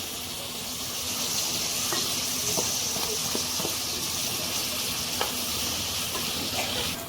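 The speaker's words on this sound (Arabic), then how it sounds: "خلاص القوانص بتاعتي خدت تشويحه كتير مع البصل" Chicken gizzards sautéing with onion and spices in a pan, a steady moderate sizzle and hiss with occasional light taps and scrapes of a utensil, no one speaking.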